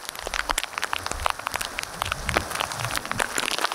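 Heavy rain pours down in a dense, loud, constant hiss of drops drumming on surfaces nearby, steady throughout with no voices heard.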